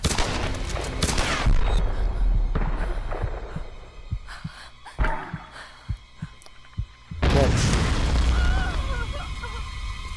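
Gunfire in the Tomb Raider video game: a rapid spray of shots opens the scene, then comes a string of separate sharp booms spaced about a second apart over a low throbbing beat, and a heavy close blast near the end.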